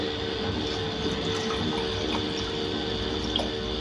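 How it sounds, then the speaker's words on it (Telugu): Water pours steadily into a pot for cooking egg dal, a continuous close, even rushing splash with no break and no talk. "ఇప్పుడు మనం వన్ ఫిఫ్టీ గ్రామ్కి వాటర్ పోసేసి పెట్టుకుందాము"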